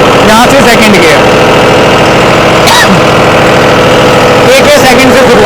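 A John Deere tractor engine runs steadily in A-range second gear, a loud continuous mid-low drone with brief clunks and rises of mechanical noise layered over it.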